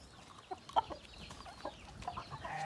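A young purebred rooster clucks several times in short, sharp bursts, fairly close, with a few quiet scattered clucks between them and no talking.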